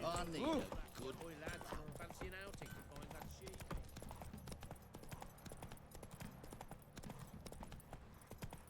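Steady clip-clop of horse hooves while riding in the video game Witcher 3: Wild Hunt, a continuous rhythmic trotting that runs throughout under a voice talking.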